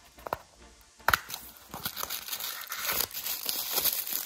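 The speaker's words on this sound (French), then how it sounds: "On va ouvrir maintenant cette petite boîte." A small toy packaging box is torn open and crinkled, with a few sharp crackles early on, then a burst of plastic and paper rustling that continues busily and close up.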